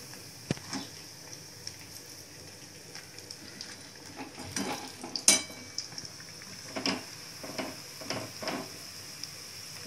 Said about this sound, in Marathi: आता 2-3 मिनिट झाले, आपण पलटी करून घेऊया.